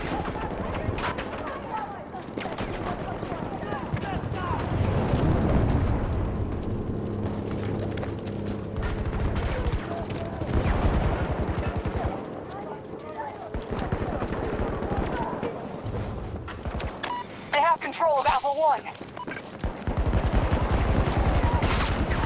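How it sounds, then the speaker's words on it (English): Battlefield 2042 Conquest battle on the Hourglass map, with dense gunfire and machine-gun bursts rattling in repeated volleys alongside distant blasts, continuous and loud, with voices calling out over the combat. "Enemy! They're shooting at us!"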